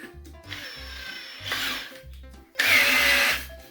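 A power drill bores through a white plaster (gypsum) ceiling in short bursts, whirring up and stopping three times, the last burst loudest, with a low hum between runs.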